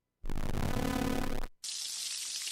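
Bacon sizzling on a grill gives a loud, dense hiss that cuts off abruptly and then returns as a sharper, brighter crackle.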